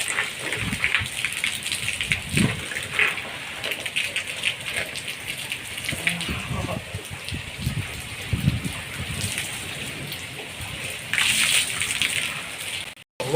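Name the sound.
heavy rain in Amreli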